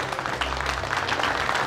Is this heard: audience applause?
yes